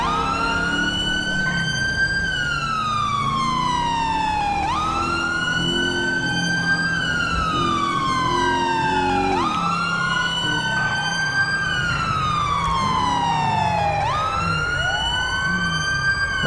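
An emergency vehicle siren in the video game GTA V wails in repeated rising and falling sweeps, a loud, close, continuous electronic cycle over a low engine drone, with no talking.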